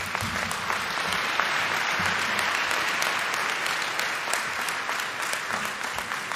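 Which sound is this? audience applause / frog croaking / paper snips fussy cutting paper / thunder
audience applause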